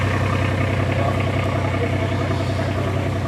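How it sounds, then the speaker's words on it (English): A steady, rumbling International 806 diesel tractor engine idles close by at a tractor show, a continuous low chugging with no talk and no change in pace. "Here's a 806 diesel with some kind of Terra tire on the front"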